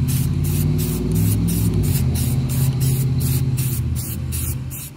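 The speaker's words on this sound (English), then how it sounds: "I have four pieces cut out and I am going to spray them" Spray paint hisses in rapid repeated bursts, about a dozen short sprays, coating four cut-out costume pieces silver, close and loud over a steady low hum.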